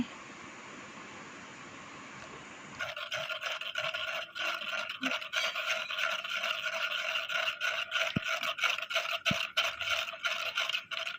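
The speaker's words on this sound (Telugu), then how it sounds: "ఇలా జ్యూస్ అంతా కిందకు వచ్చి పల్ప్ అంతా మన స్ట్రైనర్లో అయితే ఉంటుంది" Pomegranate juice is strained into a bowl, pulp caught in the strainer, heard as a close, continuous rough scraping and rattling against the mesh with occasional knocks, after a quieter hiss at the start.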